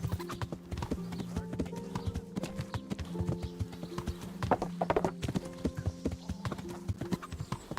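Horse hooves clip-clopping in a steady, close rhythm in Kingdom Come: Deliverance, with occasional snorting and a brief whinny, the horse sounding tired as it travels between towns.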